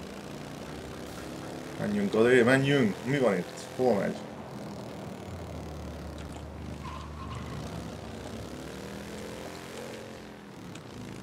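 Vibrating motorcycle engine in Mafia Definitive Edition, a continuous buzzing drone that stays under excited talk early on and then runs on alone, steady and fairly close.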